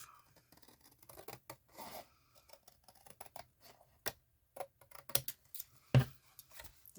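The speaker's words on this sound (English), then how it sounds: "Then come in and just angle cut that, and then cut this off." Scissors snip through fabric while making a pocket bellyband, a series of quiet, close, irregular cutting clicks and crisp snips with brief pauses between them and no speech.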